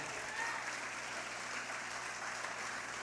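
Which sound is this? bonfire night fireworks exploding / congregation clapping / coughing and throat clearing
congregation clapping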